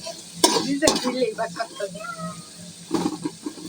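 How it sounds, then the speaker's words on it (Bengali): Chopped onions hit hot oil and fry, a moderate sizzle broken by clattering stirs against the pan, with voices talking nearby. "তেলটি গরম হয়ে যাওয়ার পরে দিয়ে দিব পেঁয়াজ কুচি"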